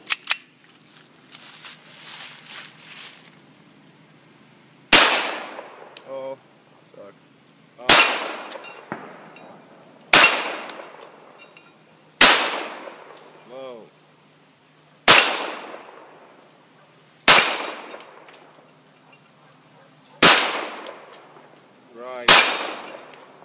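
Eight sharp, loud shots from a Hi-Point .45 pistol at a shooting range crack out one by one, spaced a few seconds apart, each with a ringing echo that fades before the next.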